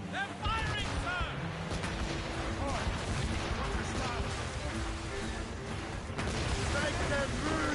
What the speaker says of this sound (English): Hostile warship on intercept course! Fire!